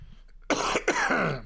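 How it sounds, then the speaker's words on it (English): Two harsh coughs in quick succession, close and loud, after a brief quiet moment with faint background noise. "Besides the two coughs."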